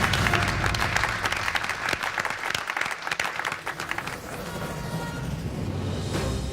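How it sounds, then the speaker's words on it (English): A studio audience on a model railway build competition bursts into loud, dense applause that holds steady and then eases into softer clapping toward the end. "Give him another round of applause, guys."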